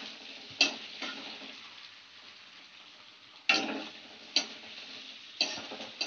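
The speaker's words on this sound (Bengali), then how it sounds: "আমি দুটো মিক্স করে ফ্রাই করছি পনিরটাকে" Paneer frying in a mix of mustard oil and white oil gives a soft, steady sizzle broken by several sharp pops and spits, fairly quiet and close, with no talking.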